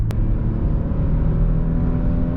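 A Porsche Macan S, 2021, with its V6 pulling hard on a test drive, giving a steady, loud engine drone and road rumble heard from inside the cabin.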